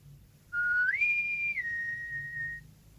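A single clear human whistle, starting on one note, sliding up to a higher held tone, then stepping down to a long sustained note before fading, near and alone over quiet background.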